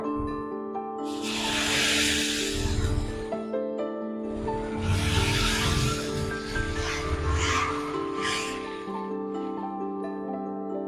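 Dosa batter poured onto a hot pan for an egg masala dosa, producing bursts of hissing sizzle and spreading scrapes over a steady background hum.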